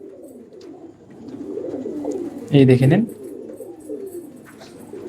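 Old Madrasi pigeons in a home loft give soft, low, rolling coos that continue throughout, while someone briefly speaks close by partway through.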